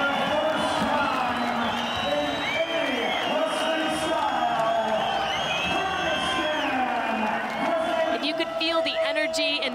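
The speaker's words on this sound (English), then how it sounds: "There are thousands of people cheering for her." A large crowd cheers and whoops inside Barys Arena, a dense, sustained roar of thousands of voices with shouts rising out of it, loud and continuous, with a commentator speaking over the noise.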